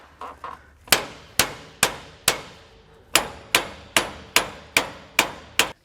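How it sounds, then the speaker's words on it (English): A hammer drives a bolt into a 4-leaf double-eye trailer leaf spring for a 4,000-lb axle. About eleven sharp, ringing metallic clangs come at a steady, close pace, with a few lighter taps just before them. "I'm gonna go on the back and start hammering it in"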